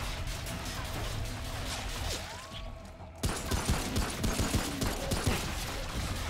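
Gunfire from an armed enemy in the Remnant video game: after a brief lull comes a rapid, loud string of shots with sharp rhythmic bursts, close up, with some voice in the mix.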